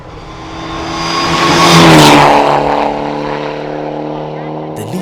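Rally car at the Eldoret Rally, running on gravel tires and setup over tarmac, approaching and passing close by with a rising engine note that peaks and then fades as it pulls away.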